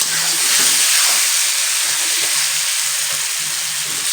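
Potatoes fry in a pan of hot oil for chickpea curry, giving a loud, steady sizzle and hiss with soft stirring and scraping running throughout.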